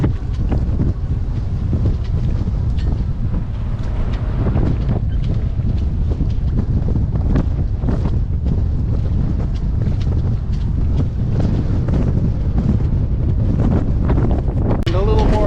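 A sailboat moves through lobster gear off the Maine coast, with steady, loud wind buffeting the microphone and a constant low rumble of wind and water throughout.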